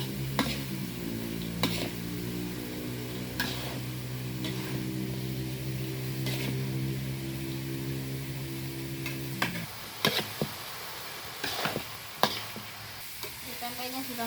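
Tempeh frying in a pan for dry tempeh, with a steady sizzle under repeated scraping stirs of a utensil; the sizzle fades partway through and sharper clinks and scrapes follow.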